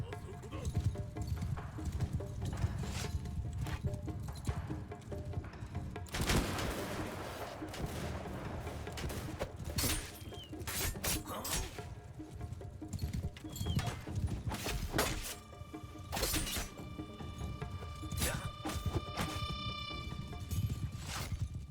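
Hoofbeats of horse gunners' mounts galloping across a battlefield in the samurai strategy game Shokuho, a steady clip-clop under a dense din of battle with scattered gunfire bursts and occasional neighs throughout.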